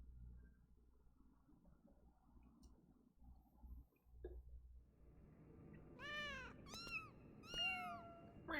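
A cat in the video game Final Fantasy XIV meows several times in quick succession, clear and fairly close, over a low murmur of in-game ambience.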